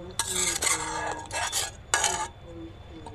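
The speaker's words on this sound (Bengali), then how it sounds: "দেখুন এবার বন্ধুরা চিনির রসটা নামিয়ে নিয়ে অন্য একটা বাটির মধ্যে রেখে দেবো।" Hot sugar syrup being poured and scraped from a pan into another bowl, with several loud bursts of metallic clinks and stirring scrapes separated by brief pauses, close up.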